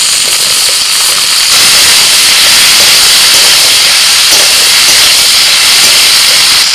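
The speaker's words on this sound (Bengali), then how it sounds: "আলু পেঁয়াজ একটু নাড়াচাড়া করে ভেজে নিয়ে দিয়ে দিচ্ছি গাজর, কুমড়ো আর হচ্ছে পটল" Potatoes and onions fry in oil with carrot, pumpkin and pointed gourd added, giving a loud, steady hiss and sizzle that runs unbroken throughout with no talking.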